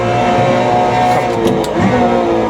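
A Porsche Cayman GT4 Clubsport engine pulls hard around a track, a loud sustained tonal drone with shifting pitch and brief tire noise, steady throughout with no talk.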